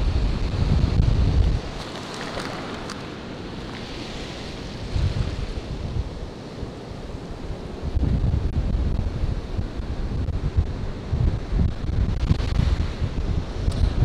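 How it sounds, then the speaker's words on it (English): Strong gusts of wind buffet the microphone on a beach, roaring in heavy bursts that rise and fall, with surf noise beneath and no talking. "part of the problem is the wind gusts are so strong"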